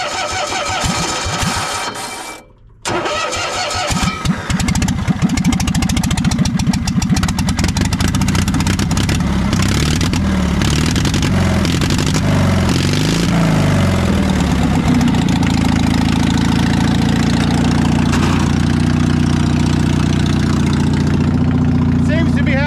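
A cold engine cranks and catches, then settles into a loud, steady idle with the choke on, running evenly close by for the rest of the time.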